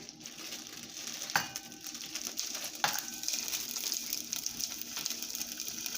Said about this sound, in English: oil is pretty much hot already, and we would have blended up some nice garlic. So we're gonna go ahead and fry this up first